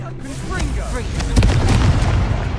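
Confringo blasting spell explosions in the Hogwarts Legacy video game, heavy booming blasts with a sharper burst midway, loud and continuous under shouted spell-casting voices.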